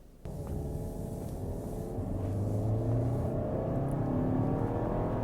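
A pink 2017 Volkswagen Beetle with a turbocharged 1.8-liter engine kicks in abruptly and accelerates, its steady engine rumble building in pitch and volume as it pulls harder, heard up close without any talk.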